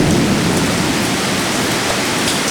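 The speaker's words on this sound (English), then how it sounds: "covering the perfect storm in Oviedo" Heavy rain and rumbling thunder from Hurricane Charley in 2004 at Oviedo, Florida, a steady loud roar of downpour with low storm rumble throughout.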